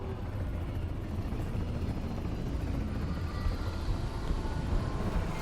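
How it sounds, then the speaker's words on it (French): Combat helicopters fly over a city in the video game Cyberpunk 2077, a continuous dense rotor roar that holds steady and fills the whole stretch without talk. "Des hélicos de combat des NUSA dans le ciel de la ville libre de Night City"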